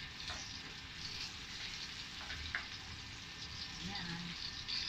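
Chicken with sausage frying over high heat in a pan, giving a steady close hiss and sizzle with faint stirring scrapes, quiet and continuous.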